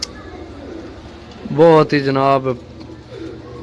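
Domestic pigeons kept by a hobbyist give a short, close burst of throaty cooing in the middle, with someone talking nearby and faint background noise around it.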